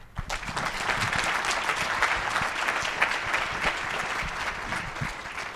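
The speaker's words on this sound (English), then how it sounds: "Thank you for that nice round of applause for our speakers" Conference attendees at a diversity and inclusion summit give the speakers a sustained round of applause, dense and steady clapping from a large room that stays fairly level throughout.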